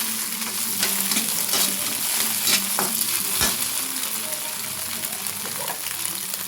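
Large pieces fry and sizzle in a pan with steady crackling and occasional spoon scrapes and clinks as they are stirred, a continuous close sound with no talking.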